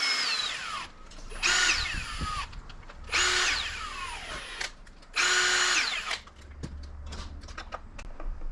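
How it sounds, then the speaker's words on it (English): A power driver sets screws during a servo installation on an X-Maxx RC truck, with three distinct whirring bursts that rise and fall in pitch, separated by pauses and small clicks and ticks. "We don't want to screw this in too fast"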